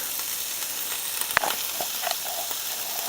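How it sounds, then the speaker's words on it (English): Steady sizzling and crackling as smoked meat fries in hot olive oil in a frying pan, with a few sharp pops over the continuous frying hiss. "I heated up some olive oil in a frying pan, and first I'm gonna add some smoked meat"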